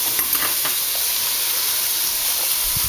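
Sliced onions and garlic fry in a pan, giving a constant close hiss of sizzling with a few light scrapes of stirring near the start and a low knock at the end, no talk.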